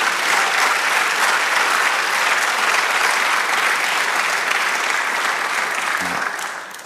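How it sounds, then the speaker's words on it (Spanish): Sustained applause from a church congregation at a sermon, loud and steady throughout, tapering off near the end with a brief low thump. "Dale un aplauso al Señor"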